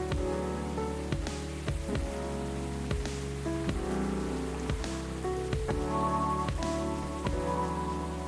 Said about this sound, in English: Ah, listen to that. Pouring rain again.